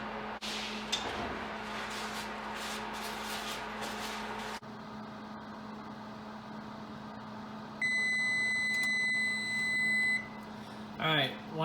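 Kitchen oven timer beeping after a pumpkin pie goes in to bake at 425 degrees, a steady run of high repeated electronic tones starting partway through and ending in a brief clatter, over low room hum.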